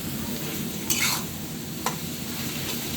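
Cabbage being stirred in a hot pan with oil, a continuous close sizzle of frying with a couple of sharp scraping stir strokes.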